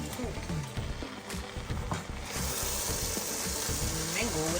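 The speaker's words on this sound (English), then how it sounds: "So now I'm just stirring it to make sure the bottom is not burning" Fever leaf and potato greens being stirred in a pot, with a steady sizzle and scraping from the bottom of the pot, loud and close throughout.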